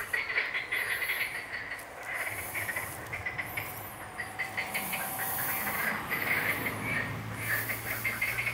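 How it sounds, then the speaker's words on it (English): Frogs croak in a rough pulsing chorus at a site in Greece, fairly faint and somewhat distant, with a hissing background and no talking. "I wanted to film the croaking creatures"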